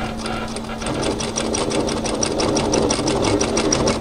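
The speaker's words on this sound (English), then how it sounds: "So we're just going to sew on our bias tape across the back." A sewing machine stitches bias tape across the back of a camisole, running in a steady, fast mechanical rhythm from start to finish with no pauses.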